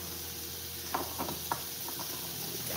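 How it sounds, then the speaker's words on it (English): Spaghetti squash and sausage sizzle faintly in a pan, a soft, steady frying hiss broken by a few small pops and crackles. "Y'all hear that sizzling?"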